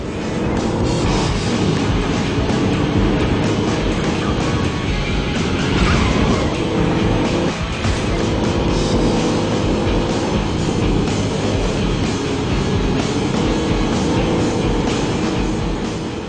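A truck racing in a post-apocalyptic off-road video game while ramming a rival off the road, with a loud, continuous engine roar and grinding road noise that hold steady throughout, broken by the odd scrape of impact.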